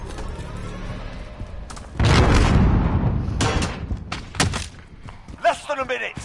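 A grenade bursts in Call of Duty Modern Warfare with a heavy booming thud followed by rumbling debris, surrounded by other gunfire and game effects while players talk over the action.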